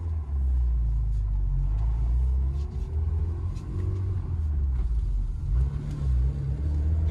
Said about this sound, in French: On est parti pour l'essai routier de cette voiture.